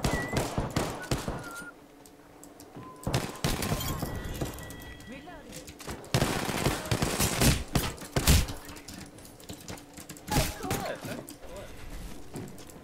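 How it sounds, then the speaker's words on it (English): Bursts of gunfire in an online shooter video game crack out in scattered volleys over about thirteen seconds, some near and loud and others farther off. A player talks over parts of it. "some guy was shooting at me"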